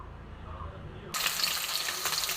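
Rohu fish sizzling in hot mustard oil in a pan, a sudden loud steady crackle and hiss that starts partway through and continues close up.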